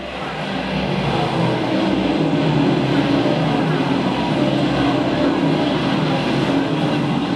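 Modified race cars roaring around the Can-Am speedway after a restart, a loud continuous rumble of engines under full throttle, heard from a distance as a steady wash of noise.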